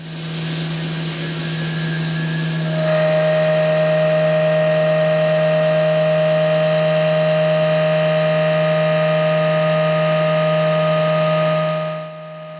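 Tormach 1500MX CNC mill cutting 304 stainless steel at a half-inch depth of cut, a loud steady machining drone with strong sustained tones that shift slightly a few seconds in, running continuously before cutting off near the end.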